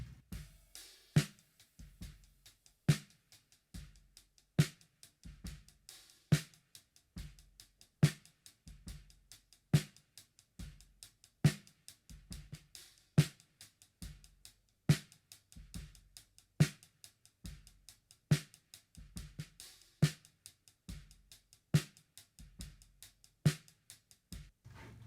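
A 6.5-inch wooden snare drum with bottom snare played softly with a steady groove, light crisp hits recurring alongside soft low thumps, quiet and close.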